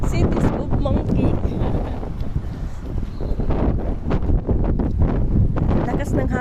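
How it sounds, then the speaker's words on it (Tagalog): Strong, cold wind buffets the microphone outdoors in a city with monkeys, producing loud, rumbling gusts that rise and fall continuously, with people talking faintly underneath. "Lakas ng hangin, tapos ang lamig."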